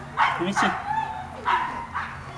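An American Bulldog yips and barks excitedly while playing with a toy, a few short bursts over about two seconds, close by, with a person talking over it.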